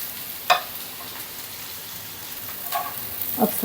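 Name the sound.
ridge gourd pieces frying and being stirred in a pan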